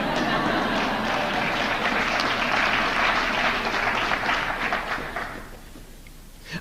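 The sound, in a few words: audience applause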